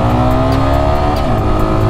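Yamaha R15 M motorcycle engine held at a steady, loud rev with rising and shifting harmonic tones, close by and continuous with no talk.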